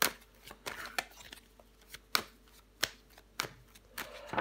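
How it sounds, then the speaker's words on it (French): Tarot cards handled and laid out on a table, with a series of sharp, separate slaps and flicks a second or so apart, close and fairly quiet. "Je recouvre des cartes."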